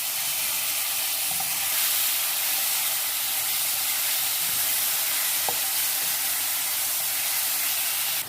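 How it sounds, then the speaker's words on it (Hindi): Garlic, ginger, tomatoes and green chillies sizzle and hiss steadily in a hot pan for moong dal, with a faint clink of the spoon as they are stirred, and nobody speaks. "अब साथ में इसके हम टमाटर और हरी मिर्च डाल लेंगे और इसको अच्छे से मिक्स कर लेते हैं"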